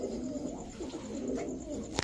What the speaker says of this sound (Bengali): এই যে দেখেন সিলভার আফসান বাঘা চুইঠাল একটা নর কবুতর।